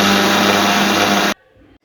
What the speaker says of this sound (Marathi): चला तर मग आता आपण हे मिक्सरमध्ये फिरवून